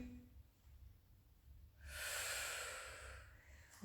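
One slow, deep breath is drawn during a Pilates exercise, first faint and quiet, then swelling into a long, airy, close rush of air that fades out over the last couple of seconds.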